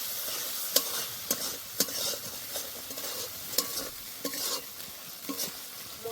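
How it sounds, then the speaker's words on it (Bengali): Spices with turmeric powder stirred and sautéed in hot oil for a Bengali katla fish curry with potatoes, a steady sizzle broken by repeated sharp scraping taps of a spatula against the pan, close and alone. "এবার ভালো করে কষে নেব।"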